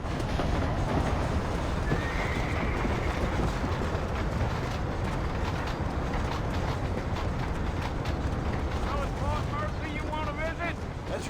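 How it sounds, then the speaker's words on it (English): Horses in the Western video game Red Dead Redemption whinny and snort while hooves clip-clop steadily, with creaking tack and a faint rumble of rail traffic underneath; the neighs rise clearly near the end against a dense, constant ambient bed. "I got the horses saddled up and ready out front."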